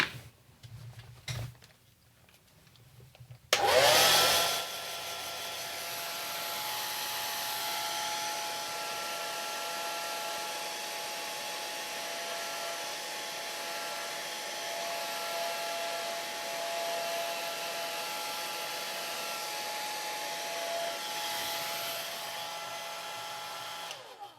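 A hair dryer blows steadily over a watercolor painting, starting after a few soft handling sounds and then holding a loud, even whoosh for about twenty seconds.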